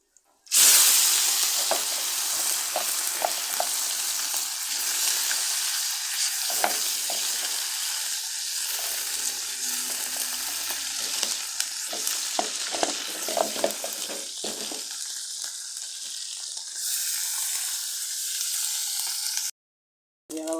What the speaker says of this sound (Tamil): எண்ணெய் காஞ்சிருச்சு கடுகு வெந்தயத்தை போட்டுக்கலாம் நெத்திரியாக போட்டுக்கலாம்